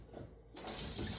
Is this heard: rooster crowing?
no